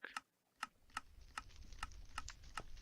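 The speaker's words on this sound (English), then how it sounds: "elevator is clicking" A Minecraft elevator contraption clicks in a steady series of sharp ticks, about seven evenly spaced clicks over a low background hum, with no voices.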